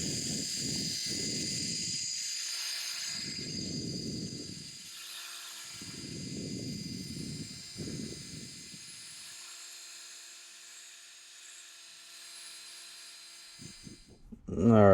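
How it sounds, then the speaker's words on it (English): Power buffer polishing a scratched part on a Mazda RX4, heard as a steady high whine with several bursts of lower grinding as the pad presses on, ending in a loud clunk. "let's see what we get out of the buffer."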